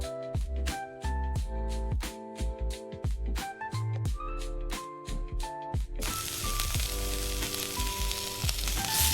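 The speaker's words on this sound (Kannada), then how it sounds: "ಈರುಳ್ಳಿ ಚೆನ್ನಾಗಿ ಫ್ರೈ ಆದಮೇಲೆ ಸೋಂಪು ಕಾಳು ಮತ್ತು ಧನಿಯಾ ಕಾಳನ್ನು ಮಿಕ್ಸ್ ಮಾಡ್ಕೊಳ್ಳಿ. ಅದನ್ನು ಚೆನ್ನಾಗಿ ಫ್ರೈ ಮಾಡಿ." Onion with fennel and coriander seeds sizzles steadily in a pan for a chicken gravy, a close, continuous hiss with occasional clinks, over music with a steady beat that gives way to a denser, louder wash of sound in the final few seconds.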